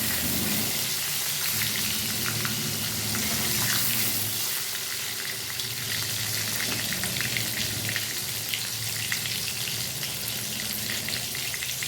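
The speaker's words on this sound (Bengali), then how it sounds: "বেগুনটা আমি ভেজে নিচ্ছি।" Sliced brinjal frying in hot oil, the same oil used for the hilsa, with a steady, dense sizzle running continuously throughout, close and fairly loud, with no talking.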